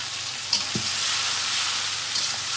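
Spices including turmeric and chili powder sauté in a pan, giving a loud, steady sizzle with a brief stir or scrape near the start and no talking.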